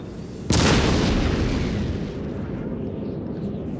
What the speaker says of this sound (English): here's some more artillery pieces firing.